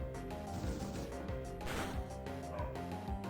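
A pet dog barks and yips repeatedly in quick bursts, fairly close, over a steady bed of video game music from Pokemon Diamond.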